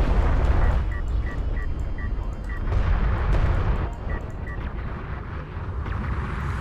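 Artillery barrage in the strategy game Homeworld: Deserts of Kharak, a continuous low rumbling roar of distant shell impacts with faint higher blips, steady throughout without talk.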